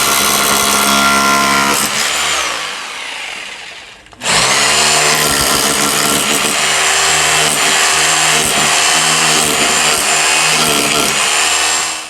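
A loud rotary hammer drill in hammer-only mode, not rotating, pounds steadily, briefly winds down and stops, then starts again with a dense, rapid hammering that continues to the end.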